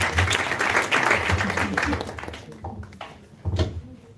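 A church congregation at an Easter celebration gathering in Paris bursts into loud applause that gradually thins, with a final short flurry of clapping.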